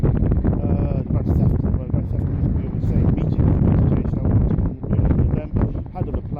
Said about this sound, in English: This wind is really bad behind me